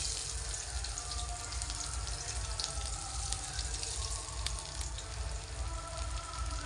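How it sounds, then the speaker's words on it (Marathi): Garlic and onion fry in hot oil in a pan, giving a steady, even sizzle that is close and fairly soft, with no talk over it. "गरम झाले चला तर टाकले लसूण आणि कांदा"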